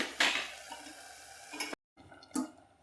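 Biryani being stirred in a cooking pot, with a few scraping, clinking spoon strokes against the metal and a brief pause between them, moderately close and not loud.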